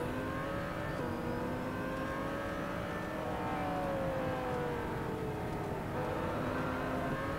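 A racing car's engine howls and revs through gear changes in a racing video game, its pitch sweeping up and down steadily over several seconds with no talk over it.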